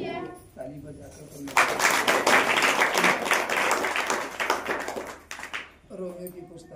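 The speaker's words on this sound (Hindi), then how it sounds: "ताली बजाकर" A church congregation claps hands together in a sustained burst of applause lasting several seconds, with talk just before and after it.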